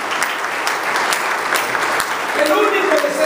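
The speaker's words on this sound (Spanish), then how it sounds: "Démosle un fuerte aplauso al Señor esta mañana" A church congregation claps together during a morning service, a steady wash of applause with some voices faintly underneath.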